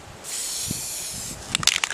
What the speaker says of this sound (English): I'm just going to clear coat it real quick